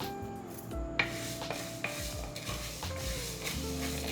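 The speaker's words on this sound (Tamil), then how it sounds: "இந்த பாசிப்பயிரை கொஞ்சம் நல்லா வறுத்துக்கலாங்க." Green gram being dry roasted in a pan for a brinjal kuzhambu, with steady scraping and stirring strokes and light rattling of the lentils against the metal, close and clear without talk.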